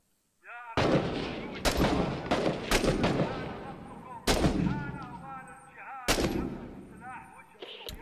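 Heavy bursts of gunfire in a modern urban-combat shooter set in Fallujah, with several loud, echoing volleys a second or two apart. A long reverberant tail fades after each burst, and voices call out beneath the shooting.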